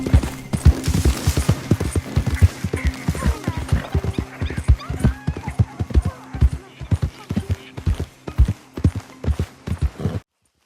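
Video game horse hooves clip-clop at a steady trotting pace, close and clear over a faint background, stopping abruptly at the end.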